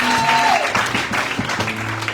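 Church congregation at a French-language praise and worship service clapping in a brief burst of applause, with voices and a held tone mixed in.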